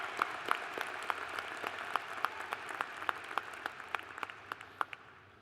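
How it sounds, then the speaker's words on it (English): Graduates being applauded at a commencement ceremony: faint, distant scattered clapping from a sparse crowd, separate claps audible and fading toward the end. "a round of applause for these outstanding graduates"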